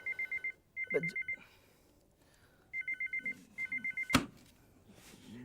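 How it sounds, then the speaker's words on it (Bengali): A telephone rings indoors in a household drama scene. Two pairs of short, trilling bursts are separated by a quiet gap, with a soft thump between rings. "যা ফোনটা ধর।"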